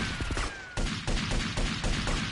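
Repeated gunfire bursts in GTA Vice City, a run of sharp, loud shots spaced through a chaotic firefight with some in-game clutter underneath.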